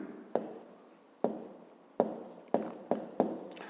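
A pen writes by hand in a school maths notebook, with six sharp strokes starting at irregular intervals, each scratching briefly then trailing off, heard close and alone.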